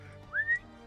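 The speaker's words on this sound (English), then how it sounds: "I just whistle." A single short rising whistle, clear and fairly close, is made by a person calling a bird down in a tabletop role-playing game session. It lasts about half a second and stands out over quiet room tone.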